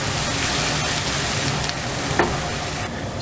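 Fresh garlic and ginger paste sizzling in hot oil in a pan for a chicken and potato gravy, a steady, close frying hiss with a faint stir or clink near the end.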